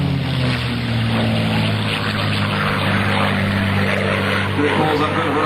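P-51D Mustang with a full bubble canopy flying a pull-up demonstration at an airshow, its propeller engine droning loud and steady with a low harmonic growl throughout.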